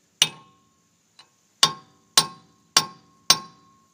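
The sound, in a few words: chiseling and hammering rusty rotor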